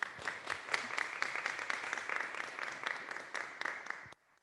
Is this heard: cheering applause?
yes